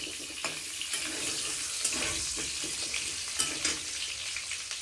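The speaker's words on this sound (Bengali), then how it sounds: "এরপর আমি ওই তেলের মধ্যে আলু ছোটো ছোটো করে কেটে কড়ার মধ্যে দিয়ে ভালোভাবে ভাজবো।" Small cut potato pieces fry in oil in a wok, giving a steady, fairly quiet sizzle with occasional sharper crackles and pops from near the pan. No one speaks.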